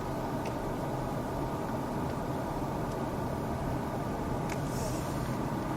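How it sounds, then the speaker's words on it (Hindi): A car rolls in neutral with its engine still running, giving a constant broadband rumble of engine and road noise. It stays close and even for the whole stretch, with no voices. "इंजन मैंने स्टार्ट रखा हुआ है"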